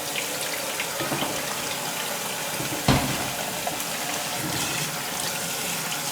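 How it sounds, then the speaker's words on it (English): Tap water runs steadily into a sink as a brined turkey is rinsed off, a continuous close splashing with one brief louder knock midway and no talk. "So you make sure you wash your turkey off."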